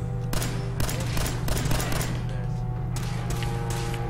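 Rapid bursts of automatic gunfire and scattered shots from gunners in the video game Fallout 4 crackle continuously over a low droning game soundtrack, loud and close.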